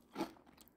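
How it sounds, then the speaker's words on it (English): Close, dry crunch of someone biting into overdone toast left too long in the toaster: a single loud bite with a brittle crackle that fades into softer chewing. "Here is me chewing."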